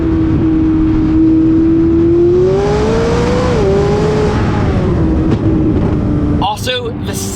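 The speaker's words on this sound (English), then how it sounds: "the sound that the 600 LT makes is like a tuner car with twin turbos on it" A McLaren 600LT supercar's twin-turbo engine drones loud and close, its tone climbing steadily then dipping, with a sharp burst of higher-pitched mechanical noise near the end.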